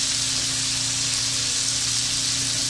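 Pork pieces sizzling in a hot pan for an estofado, a steady dense hiss and crackle of frying fat running continuously and close, with a low hum beneath and no talk.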